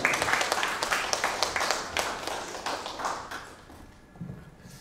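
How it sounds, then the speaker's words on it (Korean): Audience applause for a speaker at a newspaper's 22nd anniversary ceremony, a steady burst of clapping from a gathered crowd that gradually thins and fades toward the end. "여러분 이현옥 의원님 박수 부탁드리겠습니다"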